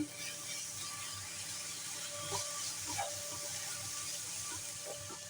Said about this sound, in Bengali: এরপরে দিয়ে দেব 1 স্পুন আদা রসুনের পেস্ট। এটাকেও ভালো করে তেলে ভাজবো।